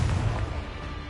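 A Confringo blasting spell explodes in the Hogwarts Legacy video game, a single loud, booming burst up close that rumbles and fades over about a second.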